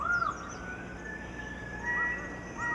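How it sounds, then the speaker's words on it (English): Rainbow lorikeet in a New Guinea forest giving a few short, shrill screeching calls over steady forest ambience of insects and distant birds. "a rainbow lorikeet"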